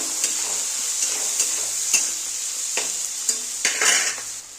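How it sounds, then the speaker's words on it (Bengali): Eggplant and onion fry with salt and turmeric in a pan, a steady sizzle broken by repeated sharp scrapes and taps of a spatula being stirred through. "এবারে দেবো লবণ, হলুদ গুঁড়ো। এবার ভালো করে ভেজে নেব।"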